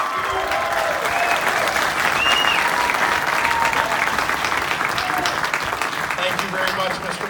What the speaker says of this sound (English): give a warm Aurora round of applause for